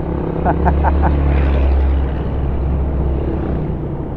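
A motorcycle rides along with a steady low engine drone and rushing wind, while someone talks excitedly over it the whole time.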